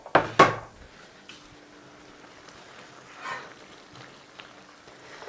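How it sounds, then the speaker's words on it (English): Chickpeas poured into a tagine pot, about 200 grams, giving a couple of sharp close rattles at the start and then fainter scattered clatter over a quiet background. "And we'll just put our chickpeas in, a couple of 100 grams of chickpeas."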